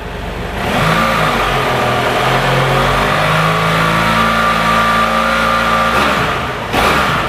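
A 2014 BMW F800GS motorcycle engine with stock exhaust revs up from idle and holds a loud, rising drone, with a brief dip near the end before picking up again.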